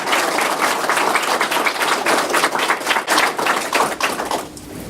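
Audience applause for panel guests at a public talk on the End of Life Choice Bill, a full, steady roar of many hands clapping for about five seconds before tapering off slightly.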